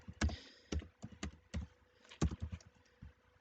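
Keys clack on a computer keyboard in short irregular bursts of close, crisp taps with quiet pauses between them.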